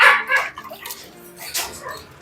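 Pet dogs give a few sharp, close barks and yips in a short irregular burst, with quieter gaps between, no speech.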